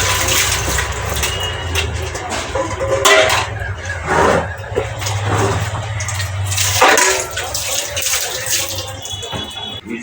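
Dishes being washed under a running tap, a steady stream of water with clinks and knocks over it. Background noise carries through.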